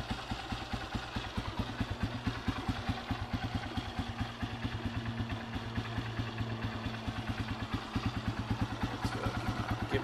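A cold Honda CRF150F dirt bike engine idles steadily after starting, its single-cylinder thump pulsing in a fast, even rhythm close by, with a clattery mechanical edge and no speech.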